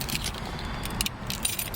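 Car keys jangle and rattle in a Le Mans style ignition of a Ruf BTR Porsche 911 Turbo, close and fairly loud, with light metallic clinks scattered across the moment and no talk.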